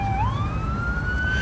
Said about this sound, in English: You can hear the police, the ambulance coming into the scene.